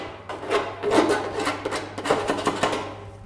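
A knife rasps across the freshly cut end of a metal roof gutter in a series of short, close scraping strokes with uneven rhythm.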